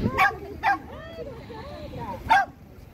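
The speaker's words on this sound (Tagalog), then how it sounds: "wild dogs" Wild dogs near a brick factory bark three times, two sharp yips close together and a third after a pause, loud and fairly near.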